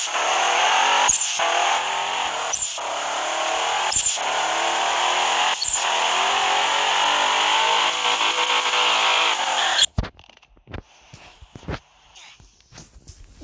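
A video game car drives fast with a steady, high engine drone held for about ten seconds, then cuts off abruptly, leaving scattered sharp clicks and taps.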